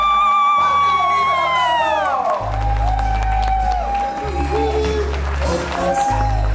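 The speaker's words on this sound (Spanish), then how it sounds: "¡Damos un fuerte y caluroso aplauso para recibirla como ella se merece!" A crowd at a fifteenth birthday celebration claps and cheers to welcome the girl, the applause sitting beneath loud music and an announcer's voice.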